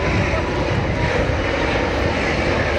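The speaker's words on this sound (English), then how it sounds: "Asiana 602 to A380 800 off to Seoul" Asiana Airbus A380-800 jet taking off from Sydney Airport in gusty wind, a loud, steady broadband engine roar filling the whole stretch without break.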